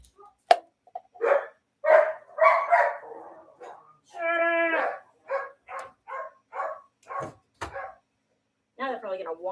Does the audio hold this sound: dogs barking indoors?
yes